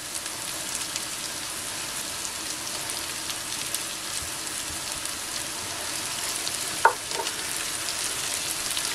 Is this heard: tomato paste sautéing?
yes